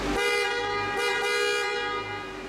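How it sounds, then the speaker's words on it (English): A Ferrari F50 horn sounds one long, steady, bright blast held for a couple of seconds, loud and close. "in the center of the steering wheel you have the horn, which sounds like this."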